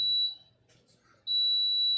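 A kitchen appliance timer sounds two sustained high-pitched electronic beeps, loud and close, separated by a short gap with faint background noise.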